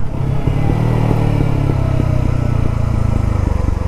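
A TVS Apache RTR 200 4V Race Edition 2.0 motorcycle engine revs steadily while riding, a close, loud mid-pitched drone with rhythmic throttle pulses and slight pitch shifts, heard alone without talk.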